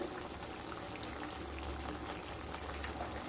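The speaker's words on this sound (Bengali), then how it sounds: "কিছুটা সর্ষের তেল দিয়ে দিলাম।" Mustard oil pours into a drumstick curry in a brief, steady liquid splash over a low simmering murmur, close and moderately loud, with no speech.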